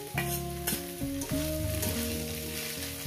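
Rohu fish belly fries with beans in a pan, giving a steady close sizzle with stirring scrapes and clatter on top, with no voices.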